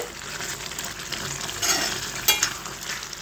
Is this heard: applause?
no